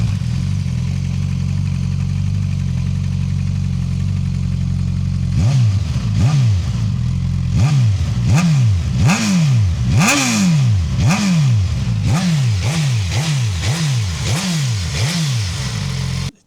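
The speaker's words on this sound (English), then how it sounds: "We have pretty small exhaust, which sounds pretty nice." A Suzuki GSX S1000GX motorcycle idles steadily through a small exhaust, then gets a rapid series of sharp throttle blips, each rev rising and falling, loud and close.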